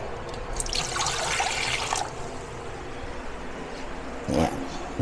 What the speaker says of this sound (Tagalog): Dagdag ng tubig.